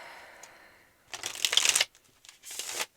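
Tarot cards riffle-shuffled close by in two quick crisp bursts, each a rapid fluttering cascade of snapping cards, separated by a short pause in an otherwise quiet room.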